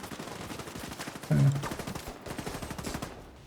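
Rapid bursts of gunfire in a video game, a dense crackle of repeated shots with one louder close blast, continuing steadily throughout the clip.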